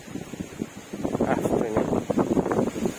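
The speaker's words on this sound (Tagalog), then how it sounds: "very windy" Strong wind gusts buffet the microphone at a riverside camp, a steady rushing roar with rumbling bursts and no one talking.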